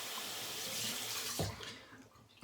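Tap water runs steadily to rinse off after a close wet shave with a razor, a continuous close hiss of flowing water with a brief knock partway through.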